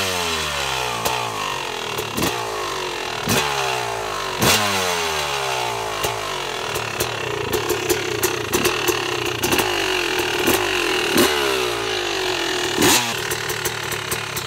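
Yamaha YZ250 two-stroke dirt bike fitted with a Rekluse auto clutch, kick-started and revving loud and close, the engine rising and falling in repeated throttle blips with sharp cracks throughout.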